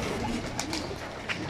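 Fighter pigeons coo softly against steady outdoor background noise, a few brief calls standing out at a moderate distance.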